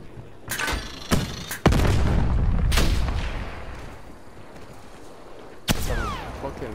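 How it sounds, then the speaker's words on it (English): Several loud, sharp video game explosions in a Cold War sniper match, with booming tails, one large explosion followed by lingering rumble, then another sudden blast near the end. "Why was that explosion so loud?"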